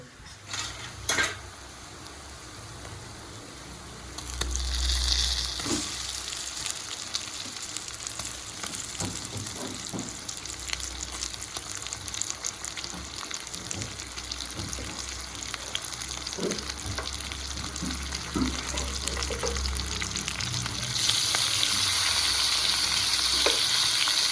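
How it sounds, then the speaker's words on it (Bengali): Chicken fries with chopped tomato and spices in a pan. A loud, constant sizzle runs under repeated scraping and clinks of stirring, and the hiss swells near the end. "এবারে মাংসটা ভালো মতন কষিয়ে নেব"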